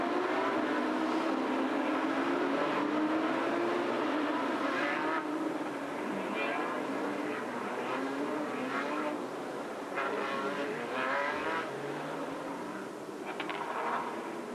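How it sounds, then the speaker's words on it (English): Porsche Carrera Cup race cars roll into position on the start grid at a 2021 Asia round, a continuous layered engine drone with rising and falling revs and occasional bursts, moderately distant and steady throughout. "Fantastic sight with the cars all coming into position."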